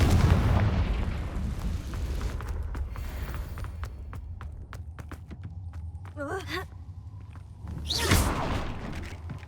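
Confringo fire spell in Hogwarts Legacy bursting with loud booming blasts over a rumbling game soundtrack, a sharp whooshing burst midway and a heavier explosive flare near the end.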